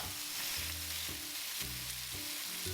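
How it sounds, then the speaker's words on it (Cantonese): Pork spare ribs sizzle steadily in a hot pan, with faint scraping stirs recurring in a loose rhythm, quiet and close. "最好呢，將排骨嘅兩面呢都煎一煎到佢金黃"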